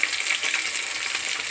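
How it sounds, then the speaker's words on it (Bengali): Fish fries in hot oil in a home kitchen, giving a steady close sizzle and crackle throughout with no talking. "তো আমি এদিকে মাছ ভাজছি"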